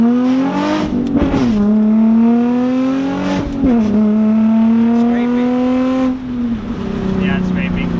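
Car with a cheap Tomei exhaust pulling hard under acceleration, a loud, close engine drone rising in pitch through several gear changes, a brief dip at each shift, running without pause.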